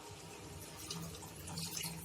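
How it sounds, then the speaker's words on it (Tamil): Steady running water splashes continuously into a cooking pot for chicken gravy, a close, even pouring rush with slight swells in intensity. "இப்போ நாம தண்ணி விட்டுக்கலாம் தேவையான அளவுக்கு."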